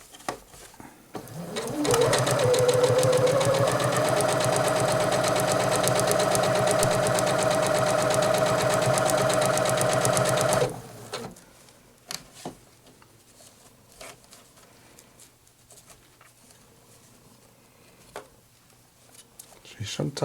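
A Janome 8077 sewing machine stitches fabric in one steady, loud mechanical whirr lasting about nine seconds, then stops, leaving a quiet room with scattered small handling sounds.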